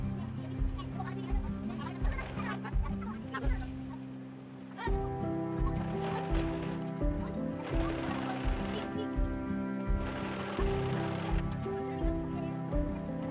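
A sewing machine stitching a blouse hem thumps in a steady, rapid mechanical rhythm throughout, with someone speaking quietly over it.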